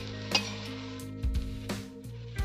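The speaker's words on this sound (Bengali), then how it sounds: "কষি কষি বাঁধাকপিটাকে রান্না করতে হবে" Cabbage with small crabs stir-fried in a pan makes a low sizzle broken by a few sharp scrapes and clinks of a utensil against the pan, close by, with uneven bursts of stirring.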